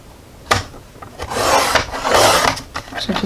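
A blade slices a strip off a paper envelope sheet, making a dry, scratchy rasp in two close, drawn-out strokes after a sharp initial snap, with no speech.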